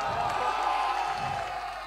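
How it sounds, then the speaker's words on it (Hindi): Crowd applause and cheering at a ghazal and poetry gathering, a dense steady roar of clapping and voices that holds loud throughout and eases slightly toward the end. "एक बार बिरादरम फैजी रहमान साहब और उनकी पूरी टीम के लिए पुरजोर तालियां बजा दें।"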